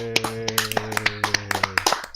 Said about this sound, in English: Clap for you, boy